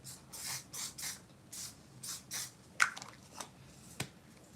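Several short bursts of setting spray hissing in quick succession at close range, followed by a few soft clicks and taps, with no talking.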